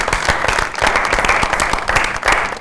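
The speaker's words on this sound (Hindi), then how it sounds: "बहुत सारी तालियों में" Loud, dense audience applause on a Pakistani TV talk show, steady clapping from a studio crowd filling the whole stretch with no talking.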